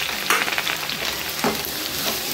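Garlic, green chili and onion fry in a hot pan with a steady close sizzle, broken by a few stirring scrapes. No one speaks.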